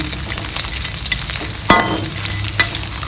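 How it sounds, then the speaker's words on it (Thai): Small fish fried in a pan over medium-low heat hiss with a loud, steady sizzle, broken by two sharp spatula scrapes or taps against the pan, close up and with no talking. "แล้ว เราก็ใส่ปลาลงทอด"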